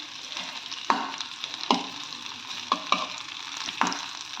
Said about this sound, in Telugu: టమాటాలు ఒకటే వేయిస్తాను, మాడిపోతాయి లేకపోతే